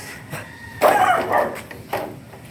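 A few sharp dog barks ring out nearby in short bursts, separated by brief pauses.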